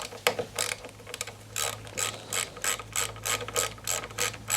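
A hand ratchet backing out a T30 screw on a VW Crafter rear door, giving bursts of crisp, rhythmic clicking strokes, close and fairly quiet, with no talking over it.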